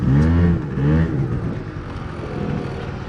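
A liquid-cooled Yamaha Zuma YW50 scooter engine revs up loudly and close, with two rising pulls early on, then settles into a steady drone as it rides down a straight.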